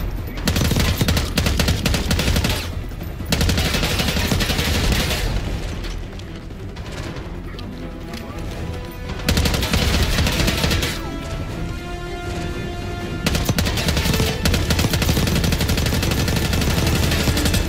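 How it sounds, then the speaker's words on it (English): GPR rifle fire in Call of Duty: Black Ops 6 multiplayer, loud dense bursts of automatic shots mixed with booming explosions, easing briefly in the middle before the heavy firing resumes. "GPR, I like this gun."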